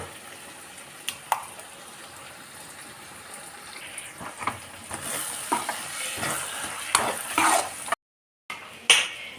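Masala sizzles in a pan after curd is poured in, with a hissing fry and repeated scraping stirs that build in intensity, heard close up and alone, with a brief cut near the end.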